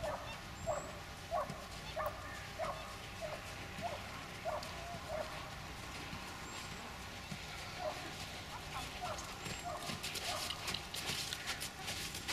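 A neighbor's dog barks in a steady series of short, evenly spaced woofs at middle distance, over a continuous outdoor background hum during a horse-riding session.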